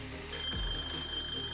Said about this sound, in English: Yeah, I know, timer.